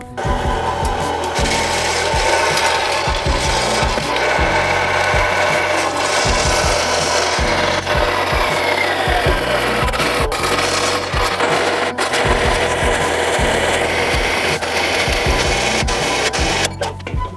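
A metal pipe being cut into pie-cut segments with a power tool, a steady loud grinding, rasping drone that runs continuously with slight variations and no speech.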